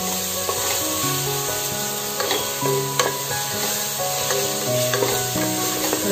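Green chilies fry in a pan with a steady sizzle and occasional stirring clinks, close and continuous.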